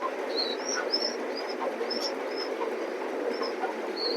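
Pigeons at a pigeon loft give short repeated calls over a steady background hum, several brief notes spaced through the moment, fairly close, with no voices.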